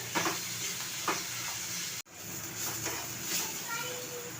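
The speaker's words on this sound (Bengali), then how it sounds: "এইবারে হালকা করে ভেজে নিয়েছি গাজর আর পেঁয়াজ" Ginger, garlic, carrot and onion fry in a pan: a close, continuous sizzle with a few scraping stirs, briefly cutting out midway before resuming.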